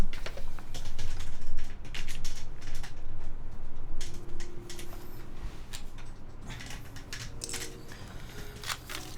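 Typing on a Norbauer Heavy Grail rubber dome keyboard, with irregular bursts of soft, close keystrokes, brief pauses between runs and quieter taps toward the end.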